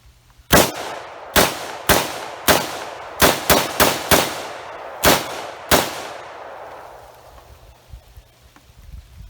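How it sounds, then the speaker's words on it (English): A Ruger Mini-30 rifle fires cheap steel-case TulAmmo, ten loud, sharp shots in an irregular sequence, some in quick pairs, each with a short decaying echo, then quiet. "Now we'll go ahead and shoot our steel case, TulAmmo, 10 rounds."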